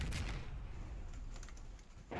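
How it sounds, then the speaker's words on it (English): Artillery strike in the video game Insurgency: Sandstorm, heavy rumbling blasts and low booming roll, loud and continuous, with a fresh impact arriving at the end. "You call artillery."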